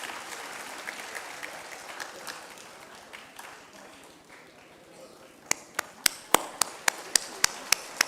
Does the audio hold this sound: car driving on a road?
no